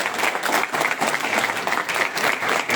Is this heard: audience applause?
yes